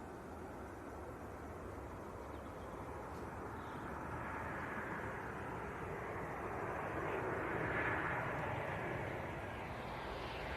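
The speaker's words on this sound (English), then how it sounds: "shall we look at the Ryanair when it comes in?" A Ryanair Boeing 737-800 airliner arriving at Leeds Bradford Airport, a broad distant jet roar that swells slowly toward a peak near the end, with no talk over it.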